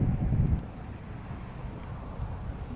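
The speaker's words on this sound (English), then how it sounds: "the wind is blowing" Wind blows across Lake Pontchartrain while fishing from a boat on an October morning, a steady low rumble buffeting the microphone, loudest at the start and continuing without pause.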